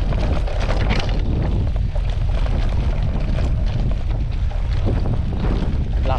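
Strong wind roars into the microphone of a rider on a long gravel bike ride, a loud, continuous low buffeting rush with no letup.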